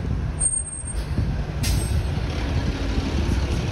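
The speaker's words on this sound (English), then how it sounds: "here comes the Orion 7 NG diesel on the 106" An Orion 7 NG diesel city bus on the 106 route pulls in along Sheppard Avenue West, with a steady engine rumble and two sharp hissing air-brake releases near the start, heard up close on the street.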